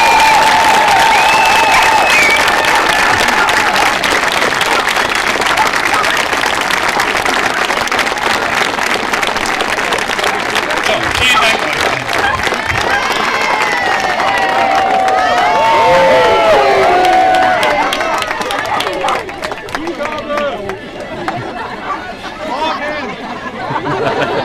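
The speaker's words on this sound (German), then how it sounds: "es gibt noch einen schönen Applaus." An audience at a team sports tournament applauds and cheers at length, dense continuous clapping with whoops and shouts, loud and close, mixed with crowd chatter and a speaker's voice, tapering off toward the end.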